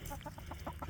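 Backyard chickens in a homemade chicken tractor in a garden cluck in short repeated notes, close by over steady background noise.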